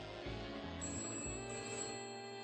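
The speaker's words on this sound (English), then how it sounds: "The phone rang." A telephone rings in short electronic bursts, a faint repeating ring pattern heard alone in an audiobook scene.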